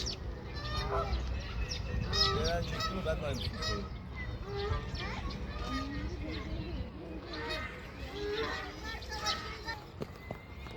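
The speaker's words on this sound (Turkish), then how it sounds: "Gördüm annem onlar kaz annem leylek değil." Several geese honk repeatedly in loose, overlapping calls at close to moderate distance at a zoo in Bursa, with people talking in the background.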